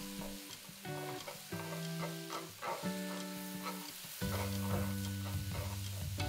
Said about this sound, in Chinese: 再来就把面放下去一起炒，把面给拨散。